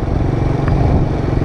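The engine of a Gilera Smash 110 motorcycle idles close by with a steady, loud low chug and some mechanical clatter, heard alone with no voices.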